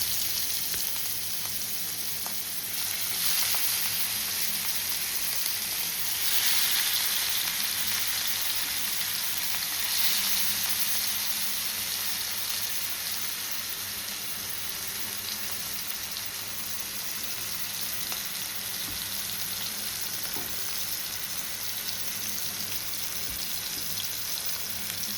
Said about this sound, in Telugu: అరగంట సేపు పక్కకు పెట్టుకున్న ముక్కల్ని మనం ఇలా వెంటనే ఫ్రై అయితే చేసుకోవచ్చు